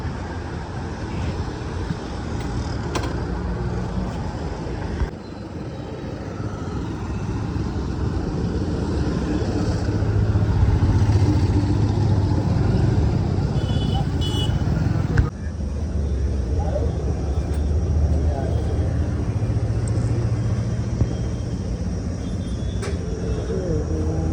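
A motorcycle is ridden on the road, its engine and road rumble running steadily under wind noise, with voices talking over it.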